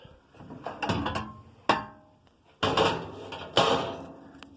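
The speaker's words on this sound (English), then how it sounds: "When you pull these doors off" Sheet-metal access doors being pulled off an air conditioner unit, several sharp clanks and rattling metallic thumps in bursts, close and fairly loud, with no talking.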